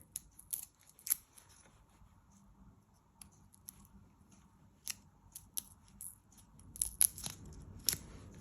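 Garlic cloves being trimmed and peeled by hand for a homemade tomato sauce, giving soft papery crackles and a few sharper snips and crunches scattered irregularly, close and quiet with no talking.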